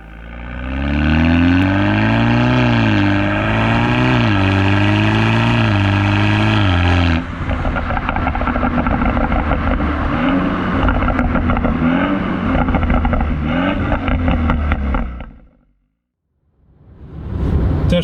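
BMW 328i F30 four-cylinder with an M Performance exhaust, muffler removed and a stage 1 tune, driving with a loud, steady exhaust drone that rises in pitch under acceleration, shifts, then cuts briefly near the end before resuming.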